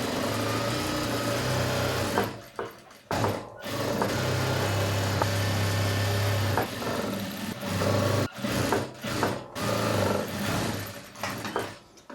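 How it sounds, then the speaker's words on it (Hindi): Electric sewing machine stitching the lower part of an off-shoulder blouse with lining, running in a steady whir broken by brief pauses and restarts. "अभी हम इस तरीके से नीचे वाले पार्ट पे भी स्टिचिंग लगा लेंगे"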